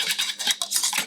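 A wire whisk scrapes rapidly through thickening milk-based sauce for lasagne in a pan, giving quick bursts of close, bright swishing strokes.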